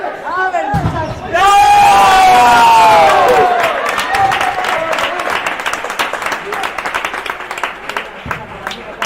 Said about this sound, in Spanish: A ver si dejamos los móviles y aplaudimos